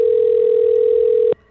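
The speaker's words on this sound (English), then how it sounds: "it's ringing on my side" A telephone call's ringing tone sounds as one loud, steady electronic beep held for over a second, then cuts off abruptly into faint background hiss.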